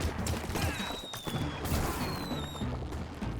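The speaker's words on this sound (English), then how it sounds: "These enemies actually blow up upon death." Enemies in a video game blow up as they die, producing a burst of crackling explosions and crashes layered over electronic game tones, loud and chaotic across the whole moment.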